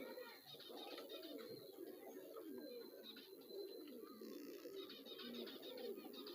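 Pigeons coo softly inside a high flyer pigeon loft, a faint continuous murmur of low calls with some chirping, with a voice partly over it.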